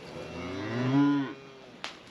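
Cattle being herded through a gate into a cow pasture give a single loud, close moo that swells and fades, followed by a brief sharp click.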